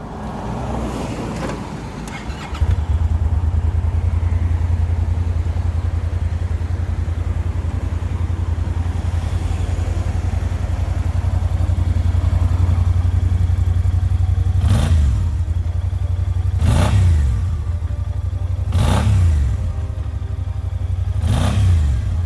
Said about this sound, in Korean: 순정 배기음을 한번 담아보도록 하겠습니다.